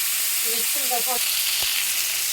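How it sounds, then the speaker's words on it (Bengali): Shrimp fry in oil in a wok with a steady close hiss and sizzle; a brief voice-like murmur rises partway through, followed by a single sharp knock of a utensil. "চিংড়িটা ভাজা ভাজা করছি"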